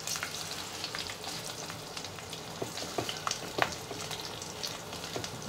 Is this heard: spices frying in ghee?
yes